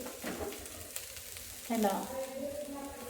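Spinach with salt and chillies sizzles softly in a pan on the stove, with light stirring scrapes and a faint voice in the background.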